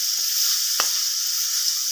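Chicken sizzles steadily in a pan while being cooked for a spicy spaghetti dish, a constant close hiss broken by one brief clink of a utensil midway.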